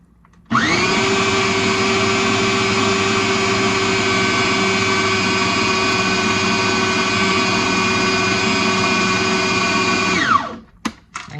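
An electric mixer whirs steadily at one speed through food ingredients, starting abruptly, holding a loud, even motor drone for about ten seconds, then stopping with a few clatters.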